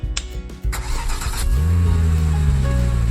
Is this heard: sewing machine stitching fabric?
no